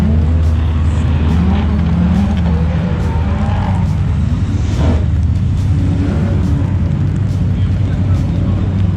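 Mazda RX-7 drift cars on a wet circuit at a drift event, loud continuous engine roar and tyre spray swelling as cars pass, with someone talking over the noise.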